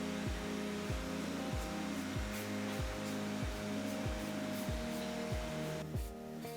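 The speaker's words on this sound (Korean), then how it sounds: "진공 청소기 이용해서 먼지를 제거해줄게요." A vacuum cleaner sucks dust out of a 2012 late-model iMac, giving a steady loud whooshing roar with an evenly pulsing motor hum underneath, and no talking.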